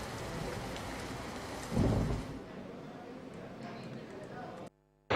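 Heavy monsoon rain pours in a dense, constant roar in Valsad district, Gujarat, swelling briefly with a deep rumble, then cuts off abruptly near the end.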